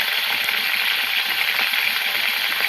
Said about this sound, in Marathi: आपण आता बटाटा पण शॅलो फ्राय करून घेणार आहोत.